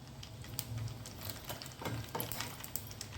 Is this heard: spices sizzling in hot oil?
yes